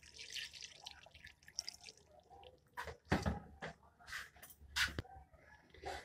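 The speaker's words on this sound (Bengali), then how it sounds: "এটাতে জল দেব।" Water poured into a blender jar over chopped beetroot, carrot, a little ginger and coriander leaves, heard as faint intermittent splashes and drips, quiet and close with gaps between pours.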